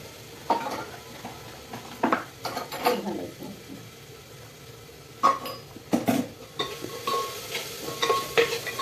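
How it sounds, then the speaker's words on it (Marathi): Onion sautéing in ghee for chicken dum biryani, with scattered scraping stirs and clatters of a spoon against the pan over a low background sizzle, some strokes loud and close. "चांगला कांदा परतून झालेला आहे."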